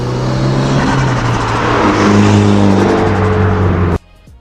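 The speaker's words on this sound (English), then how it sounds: "there's a Turbo Smart blow-off valve on here, which does sound" A Mitsubishi Evolution X fitted with a Turbosmart blow-off valve revs hard with a loud, sustained engine roar that cuts off abruptly near the end, leaving a brief, fainter release.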